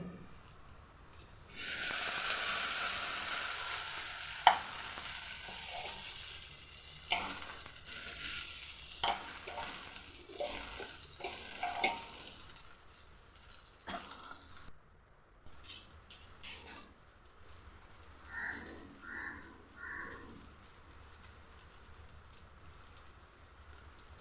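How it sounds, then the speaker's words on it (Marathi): Soaked sabudana frying with green chillies in a pan, a steady close sizzle with scraping stirs and clinks of a spoon against the pan throughout, growing a bit louder partway through. "हिरवी मिरची छान लाल झाली की त्यात आपण भिजलेला शाबदाना"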